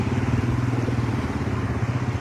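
A motorcycle ridden through a street flooded after three hours of heavy rain, its engine chugging in a steady, close, pulsing rumble throughout.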